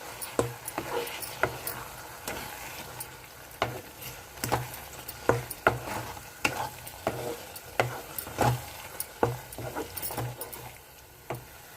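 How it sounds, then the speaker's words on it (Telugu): Raw prawns frying with masala in a pan for a drumstick curry, a steady sizzle broken by repeated scraping stirs and clinks at an irregular rhythm, close and alone with no talk. "ఇప్పుడు ఈ పచ్చిరయలను వేసేసుకుందాము మసాలాతో పాటు వేగుద్ది"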